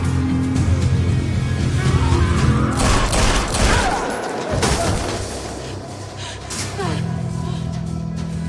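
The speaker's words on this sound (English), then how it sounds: "Steven, take the shot!" Burst of gunfire in a police action film scene, rapid loud shots cutting through a tense, noisy mix with traffic-like rumble and shouting voices around it.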